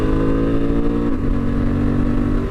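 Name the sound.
Honda Transalp 750 motorcycle riding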